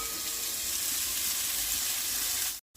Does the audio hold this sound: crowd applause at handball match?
no